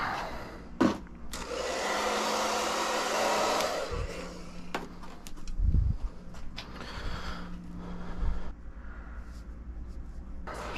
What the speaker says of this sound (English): We should probably flash dry it first.